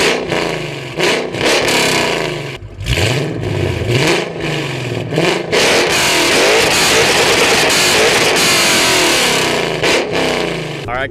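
A 2005-09 Ford Mustang with axle-back exhaust and an off-road X-pipe revs repeatedly, with sharp throttle stabs and brief dips before a longer sustained roar, loud and close.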